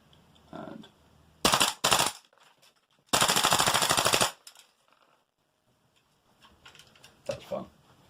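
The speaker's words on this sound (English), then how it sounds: "Right, so try a couple of shots in semi." Airsoft Spitfire gun fitted with an Angry Gun SureFire RC2 tracer unit, firing loud rapid bursts of shots, one short pair and then a longer run, separated by quiet gaps with faint speech.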